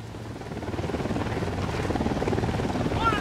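Helicopter in the video game Ghost Recon Wildlands: a rapid, pulsing rotor chop with an engine drone that grows slightly louder over the clip, steady and close, with a faint whine near the end.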